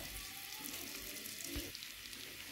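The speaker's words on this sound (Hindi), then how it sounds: "मक्खन को हम गर्म होने देंगे" Butter and oil heat in a pan, giving a faint, steady crackling sizzle with a brief louder pop near the middle.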